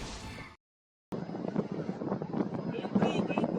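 Strong wind at sea during a water cannon incident roars against the microphone in gusty bursts, broken by a brief dropout, with voices mixed in under the buffeting.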